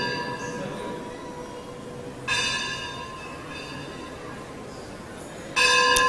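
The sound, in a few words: temple bell ringing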